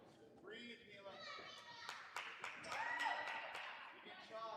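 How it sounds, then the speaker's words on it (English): A crowd at a youth 11U ninja sectional cheers and claps for a young girl, sharp claps and shouts of children and adults mixing into a lively, moderately distant din under commentary. "The crowd's starting to get behind her."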